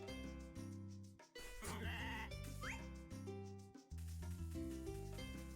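Sheep bleat in the farming video game Harvest Moon A Wonderful Life. Several drawn-out bleats sound over the game's looping background music, with a brief high chime partway through.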